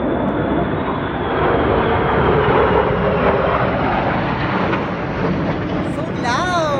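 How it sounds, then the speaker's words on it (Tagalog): Jet fighters roar overhead during a Veterans Day air display over a city center in The Hague, a loud continuous broadband rumble swelling and holding as they pass, with a crowd chattering beneath. "They're the jet fighters, by the way."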